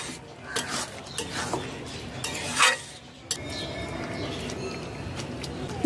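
Kasuri methi being stirred into a curry in a pan, scraping and clattering of a spoon against the pan with a faint sizzle underneath, close and moderately loud.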